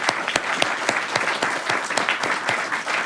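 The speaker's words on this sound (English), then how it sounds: "So let's give all of you and them an applause too." Symposium audience at a precision medicine event breaks into applause, a dense, steady wash of clapping with individual claps popping out, fairly loud and close, with no talking over it.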